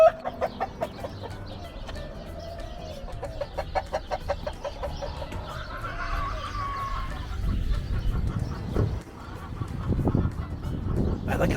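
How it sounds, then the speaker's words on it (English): Rapid clucking and honking calls from several large roosters pulse in quick bursts, followed by louder rustling and scattered crowing-like cries nearby. "I like how big those roosters are."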